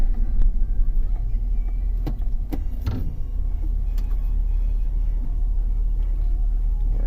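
A 2004 Chevrolet Suburban 4x4 with a 6.0-liter engine, with a faulty four-wheel-drive system, shifts into two-wheel drive: a steady low engine rumble runs throughout, with a few sharp clunks and knocks near the middle.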